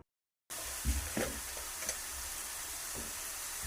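Chopped onion is stirred together with ginger garlic paste and salt for a street-style onion samosa filling, giving a steady, soft rustling hiss with a few scraping spoon strokes, alone and without talk.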